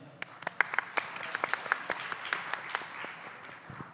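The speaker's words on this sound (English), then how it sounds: "And round of applause for Yan Ru, please." Light, sparse applause from a small summit audience for a panelist, a handful of distinct claps scattered over a few seconds rather than a dense roar.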